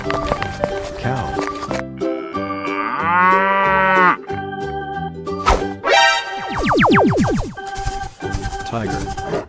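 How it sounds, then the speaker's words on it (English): Cartoonish cow moos from a 3D animal sliding video game, several drawn-out bellows over busy, bouncy game music and effects, loud and up front. "Cow."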